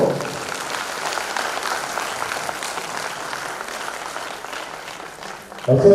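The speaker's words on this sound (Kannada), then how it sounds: "ಜೋರಾಗಿ ಚಪ್ಪಾಳೆ ಬರಬೇಕು." Loud, dense applause from a large audience at a Kannada public speech, sustained steadily for several seconds with a louder burst near the end.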